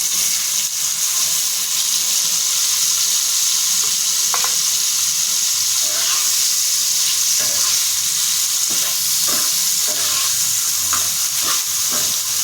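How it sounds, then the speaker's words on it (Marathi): Steady, dense frying sizzle of paneer pieces in hot oil on a pan, with occasional soft clinks and scrapes of a spatula stirring; no voices. "त्याच तव्यामध्ये मी तेल टाकून घेतलंय आणि पनीरचे पीस आहेत छोटे केलेले ते मी परतून घेणार आहे"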